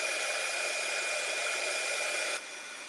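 A heat gun blows a loud, steady hiss of hot air while drying a craft project, near and constant before dropping to a quieter level at the end.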